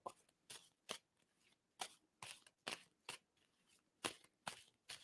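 Playing cards shuffled by hand, a series of quick riffling bursts repeating about every half second, close and crisp with soft taps between, no talking.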